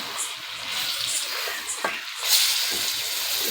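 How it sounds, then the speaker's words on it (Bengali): Chicken kosha being stir-fried in a pan produces a continuous close sizzle, broken by brief scraping stirs, with a louder surge of frying toward the end. "ভালোভাবে কষানো হয়ে গেছে।"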